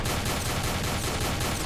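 Rapid pistol gunfire in the shooter game S.T.A.L.K.E.R.: Shadow of Chernobyl, a dense run of loud cracking shots with no gaps, filling the whole moment without speech.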